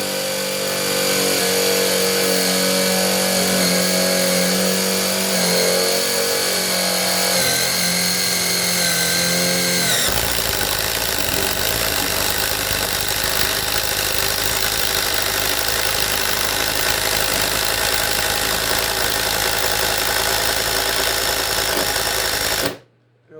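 A Ridgid three-speed brushless impact driver runs loud and continuous, driving a bit deep into treated lumber, its steady whirring motor shifting into a harsher rapid hammering partway through before cutting off abruptly at the end.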